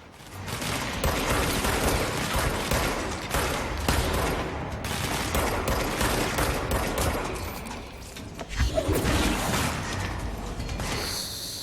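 Sniper and rapid gunfire in the video game Control: dense, continuous volleys of shots with whooshing and mechanical clatter, loud throughout with no pause.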